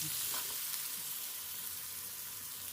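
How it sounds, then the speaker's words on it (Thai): Lemongrass and onions stir-frying in a pan for Thai pad mae pen, a continuous soft hiss of sizzling oil held steady across the clip, fairly quiet and without voices. "จากนั้นก็เอาตะไคร้แล้วก็หัวหอม ลงไปผัดนะครับ"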